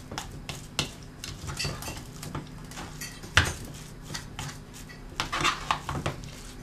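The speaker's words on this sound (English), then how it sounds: "Mix it together in a little bowl" Utensils clink and scrape against a small bowl as cod fish cake ingredients are mixed together, a steady run of light clatter with a few sharper knocks, close by and without talk.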